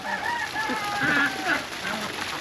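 Farm chickens cluck and a rooster crows amid a flock let out in the morning, with steady overlapping bird calls close by and no talking.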